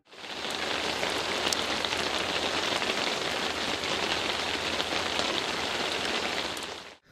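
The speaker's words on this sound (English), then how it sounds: "rain pouring down" Heavy rain pours down steadily onto a forest road, a dense, even hiss of countless drops that stays loud and constant throughout with no voices.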